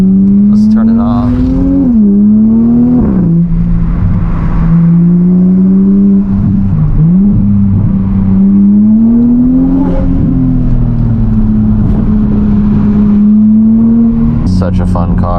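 A Toyota Supra with a titanium catback exhaust drones loudly and steadily from inside the cabin on a canyon road, its pitch rising and dipping as the throttle changes.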